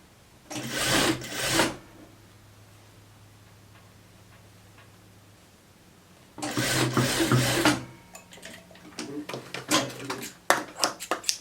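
A sewing machine stitches a sweatshirt in two bursts of rapid mechanical whirring, the second longer, followed by scattered handling clicks and rustles.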